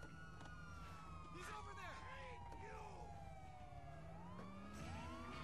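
Police siren in the video game GTA V Online, wailing and yelping tones sweeping up and down continuously, fairly faint within a steady game soundscape, with voices talking faintly underneath.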